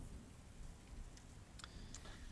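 Rain effect in a tabletop role-playing game session, a steady quiet wash of falling rain with a few faint drip-like ticks, heard alone without talk.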